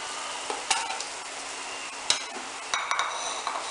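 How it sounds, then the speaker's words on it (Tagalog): Quail egg nuggets simmer in tomato sauce, with a steady soft bubbling and a few sharp clinks and scrapes of stirring against the pan, close and moderately loud, with no talking. "So, simmer lang natin siya for about 2 minutes"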